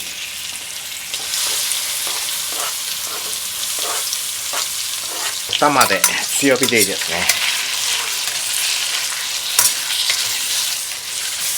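Chicken pieces fry in butter over high heat while being stirred, a loud continuous sizzle broken by scraping stir strokes and crackles. A person speaks briefly over the cooking.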